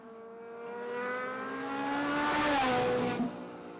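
A Hennessey HPE700 twin-turbo Ferrari 458 Spider's mid-mounted 4.5-liter V8 runs with a steady, rising rumble, revs climbing smoothly then easing back near the end; loud and close, no voices.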